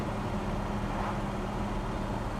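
A 1966 Chevrolet Chevelle SS with its 396 engine cruising down the road gives a steady, low, even engine hum and road rumble inside the cabin, with no revving or talk.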